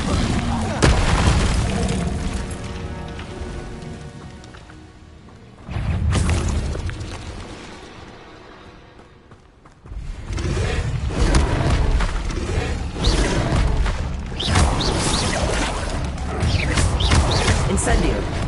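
Fire spells cast repeatedly in the video game Hogwarts Legacy on PS5, heavy booming bursts and crackling blasts layered with game music and effects, loud and dense with short lulls between volleys.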